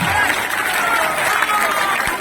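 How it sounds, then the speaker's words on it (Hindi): Steady, loud applause from a large political rally audience, continuous clapping filling the whole moment with crowd noise layered underneath. "जोर से बजाइए ताली"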